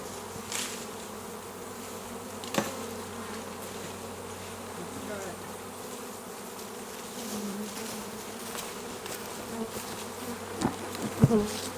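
A honey bee swarm clustered in a ball on a tree limb buzzes continuously, a dense steady hum of many bees with occasional louder passes close by.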